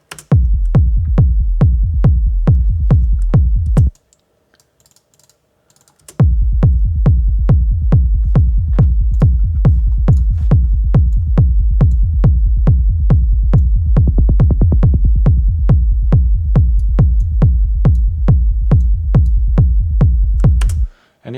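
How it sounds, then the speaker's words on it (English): A techno sub bass synth programmed in Ableton Live pulses in a steady, rhythmic groove of loud, deep bass notes. It drops out for about two seconds midway, then resumes the same driving pattern, with no voices. "So the first sub bass sounds like this."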